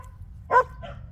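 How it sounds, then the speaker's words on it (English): A single short dog bark or yip sounds close by, a brief sharp burst in an otherwise quiet room with low background hum. "I don't need you barking in my ear right now"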